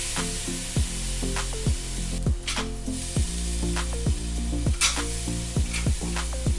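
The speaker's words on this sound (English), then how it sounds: "We're gonna mince in the garlic cloves to the same pan we cooked the steak" Minced garlic sizzles steadily in the same pan a fillet steak was just cooked in, a close, constant frying hiss broken by regular sharp ticks of a utensil stirring against the pan.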